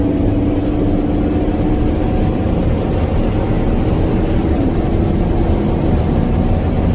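Dodge and Chevy pickup trucks accelerating side by side in a highway roll race, a loud, steady engine and road roar with wind noise that never lets up, heard from close inside a cab.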